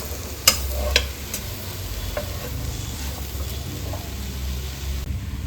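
A spatula scrapes and stirs Coorg-style pork pepper fry masala in a pan over a low flame, with a soft steady sizzle and a few sharp metallic clinks near the start.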